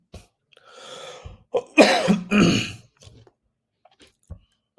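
A man clears his throat and coughs close to the microphone: a low rasp, then two strong harsh coughs in quick succession, followed by a few faint breaths and small clicks in an otherwise quiet room.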